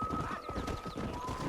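Horse hooves clip-clop in quick rhythmic steps in the video game Red Dead Redemption, fairly faint and steady across the brief clip, with a light whinny-like tone.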